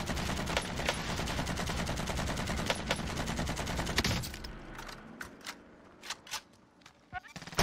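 Call of Duty Warzone gunfire: a fast automatic burst hammers steadily for about four seconds, then trails off into a few scattered single shots over quieter game ambience.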